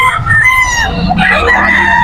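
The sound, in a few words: chickens and roosters at a market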